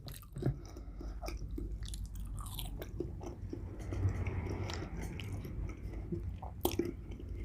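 Close-up chewing of a McDonald's Quarter Pounder with bacon, lettuce, cheese and onions: repeated moist, crunchy bites and mastication in an uneven rhythm, loud and near, with no talking.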